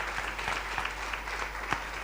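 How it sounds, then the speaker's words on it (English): Audience applause at an aerotropolis symposium, a steady, fairly quiet patter of many hands clapping over a low hum, with a few sharper claps standing out nearby. "Well, I think you need a round of applause."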